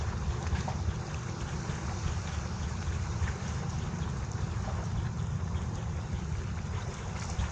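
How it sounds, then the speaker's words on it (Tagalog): Strong sea waves wash around a fishing spot at Baseco, forming a steady, close, wind-buffeted rush of water noise with no pauses and no voices. "Lakas ng alon."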